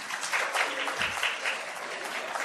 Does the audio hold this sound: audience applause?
yes